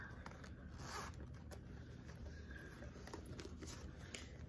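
The zipper compartment of a Coach Soft Tabby handbag is zipped, a close, quiet run of rapid zipper ticks and rasps with a few soft handling rustles, and no one speaking.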